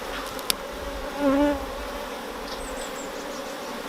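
Honeybees buzz steadily nearby during a hive inspection, with one louder bee droning close for a moment before fading back into the hum.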